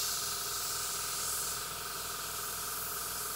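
An airbrush sprays thinned acrylic hobby paint in a steady, unbroken hiss that sits close and fairly quiet throughout, with no talk.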